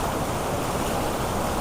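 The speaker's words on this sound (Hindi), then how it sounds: "ये रफ्तार देख रहे हैं पानी का, कितना तेज़ रफ्तार है" Fast-flowing water rushes at Bhivpuri waterfall in Maharashtra during the monsoon, a constant close broadband roar without breaks or speech.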